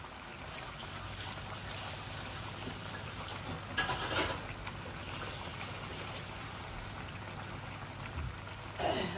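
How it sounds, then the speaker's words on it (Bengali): Water pours into a pot of simmering chicken and potato curry, a steady rushing trickle and bubbling with a couple of brief louder splashes. "আমি এখন পানি দিয়ে দিব আরো একটু। দেখুন চিকেনটা ছুটে যাচ্ছে।"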